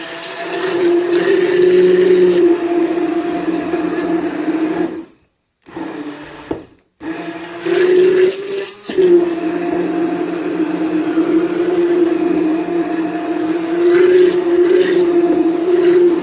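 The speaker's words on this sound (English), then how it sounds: "we are going to give this a zip around with my little blender" A small blender whirs loudly and steadily as it chops tomatillos for seed saving. The motor cuts out briefly twice near the middle, then runs on in a continuous high drone.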